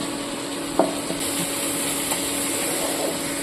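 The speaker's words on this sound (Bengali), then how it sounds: "এইভাবে ভালোভাবে নেড়ে চেড়ে মশলাটা তৈরি করব" Spice masala with tomatoes and salt stirred in a pan for Bengali mutton kasha curry: a steady, close sizzle with a few light scrapes and taps of the spoon against the pan, and no talking.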